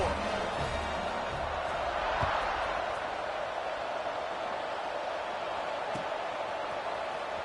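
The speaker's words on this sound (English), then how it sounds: "this crowd is buzzing after that last score" Stadium crowd at a football game buzzing after a touchdown: a steady, wide roar of many voices with scattered faint shouts and whoops, continuous throughout.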